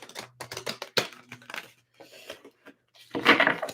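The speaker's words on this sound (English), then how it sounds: "a couple more complete shuffles" A deck of tarot cards being shuffled up close, rapid crisp riffling and flicking bursts separated by short pauses, ending with a louder flurry.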